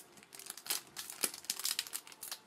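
Opening a foil trading card pack from a vintage 1997 Pinnacle Precision Performance Kit: continuous close crinkling and rustling of foil wrapper for a couple of seconds, with no talking.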